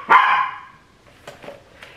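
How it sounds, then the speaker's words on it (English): A single sharp dog bark up close, followed by a few softer, quieter yips and whimpers trailing off. "He's barking at nothing"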